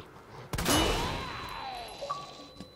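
A flashbang blast followed by a ringing, disorienting whine in the Resident Evil 2 video game, one loud burst that decays slowly with faint tones trailing after.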